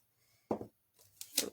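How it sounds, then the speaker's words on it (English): Scissors snipping through craft tape while making a cell phone stand: two short, close cuts about a second apart, the second crisper and brighter, in a quiet room. "Just going to use my scissors to cut the tape."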